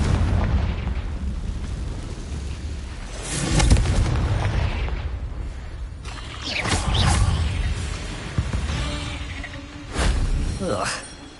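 Confringo spell explosions in the video game Hogwarts Legacy, several booming blasts and crackling bursts over a rumbling background, with a voice speaking in between.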